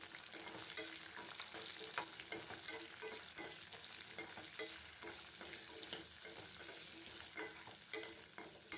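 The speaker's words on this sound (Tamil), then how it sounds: "எல்லாத்தையும் நல்லா வதக்கி விட்டுக்கலாங்க." Ginger, green chillies and tamarind sautéed in a pan, a soft continuous frying sizzle with frequent light scraping stirs in an uneven rhythm, close but quiet, with no speech.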